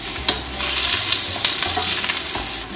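Garlic and onion sauté in hot oil in a pan, a loud continuous sizzle with stirring scrapes throughout, close up and with no one speaking.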